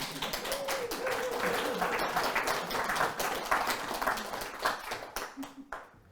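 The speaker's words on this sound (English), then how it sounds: "Give yourselves a round of applause" A seminar audience at Cleeve House gives a round of applause, steady clapping that carries through the clip at moderate level, with a faint voice or murmur mixed in and the clapping thinning out toward the end.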